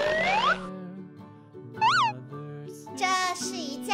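A toy kitten gives a few electronic meows and chirpy synthetic calls over background toy music, loud and close, in short bursts.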